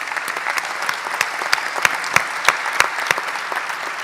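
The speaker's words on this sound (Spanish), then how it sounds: "Os pido un aplauso para Raúl" An audience at a business conference on innovation applauds a guest speaker, dense steady clapping with a few loud, close claps punctuating the wash of sound.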